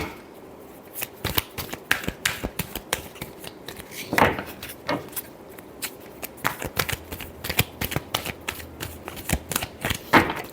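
Tarot cards shuffled by hand give a dense run of crisp, rapid riffling clicks and flutters, close and moderately loud, with a few sharper snaps along the way and no talking.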